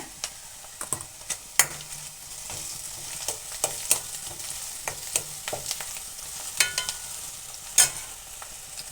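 Browning garlic and onion fry with turmeric powder in a pan, a soft steady sizzle broken by frequent sharp taps and scrapes of a spatula, irregular and close.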